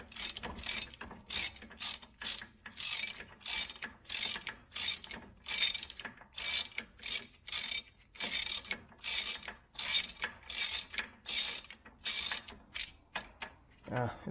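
A ratchet wrench clicks in rapid bursts while removing a nut on the power steering rack of a 2000 Acura 3.2 TL, with about two dozen sharp, close ratcheting strokes separated by short pauses.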